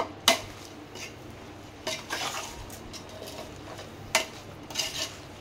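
Chicken biryani being mixed with masala, ginger-garlic and spices in a pot: a few sharp metal scrapes and clanks of a spoon against the pot, spaced apart, over a low steady background hiss.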